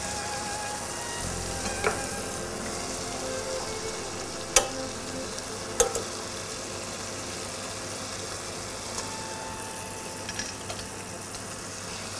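Brinjal pieces simmer in a tamarind and sugar sauce with a low, even sizzle and bubbling, broken by a couple of sharp clinks as they are stirred in, with a faint steady hum underneath.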